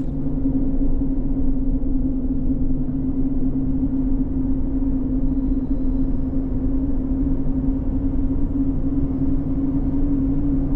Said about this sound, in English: There's a helicopter. Helicopter's been flying all day.